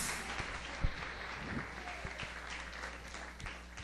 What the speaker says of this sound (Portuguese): Ovelhas, glorifiquem a Deus com uma salva de palmas.